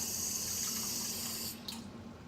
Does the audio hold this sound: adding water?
yes